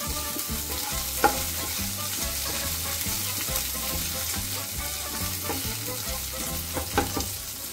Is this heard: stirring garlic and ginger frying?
yes